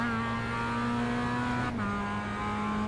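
Mazda MX-5 race car in iRacing at Circuit de Ledenon, accelerating flat out; a loud, steady engine drone climbing in pitch, with a brief gear shift near the end before cutting off.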